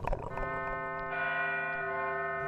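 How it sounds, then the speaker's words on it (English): Mortuary bells toll in a slow, ringing peal, the first strike blending into a long, shimmering resonance that hangs and swells, fairly loud and alone. "By the sound of the mortuary bells, it's now the witching hour"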